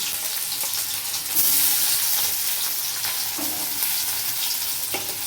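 Chopped onions drop into hot oil left from frying eggs and hiss loudly and steadily, while a spoon stirs them with a few soft scrapes against the pan.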